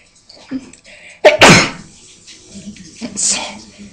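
One loud, close sneeze bursts out after a sharp intake of breath, followed by quieter talking.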